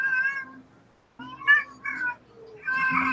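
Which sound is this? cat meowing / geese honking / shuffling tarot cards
cat meowing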